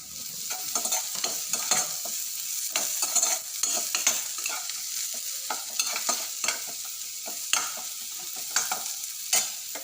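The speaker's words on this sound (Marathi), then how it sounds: "चांगलं मिक्स करून द्यायचं।" Bhel mixture being stirred in a pan on the stove, a steady run of close scraping and tossing strokes with a light sizzle underneath, no voices.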